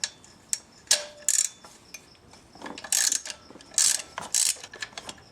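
Ratchet wrench loosening a 5mm Allen head bolt through the fan of a VW Passat 2.8L engine: crisp metallic ratcheting clicks in irregular bursts, close and fairly loud, without talk.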